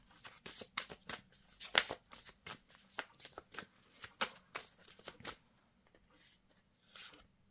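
Tarot cards are shuffled close by in a rapid run of crisp riffling flicks that gradually thin out into a few scattered taps, quiet overall.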